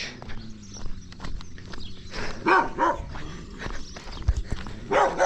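A dog barks and moves about outdoors in a rural field, rough bursts of barking over a busy background with thumping footsteps, fairly close.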